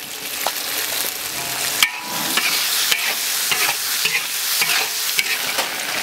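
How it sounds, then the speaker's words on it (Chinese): Fish side dishes with soy sauce and salt stir-fried in a pan, a continuous loud sizzle broken by frequent scraping and clattering of the spatula, close and uninterrupted. "再炒一下看。"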